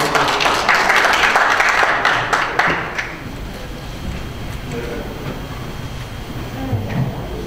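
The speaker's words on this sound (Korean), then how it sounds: "박수 한번 부탁드리겠습니다." A burst of applause from a crowd at a merchants' association president inauguration ceremony for about three seconds, then fades into murmuring room noise and scattered voices.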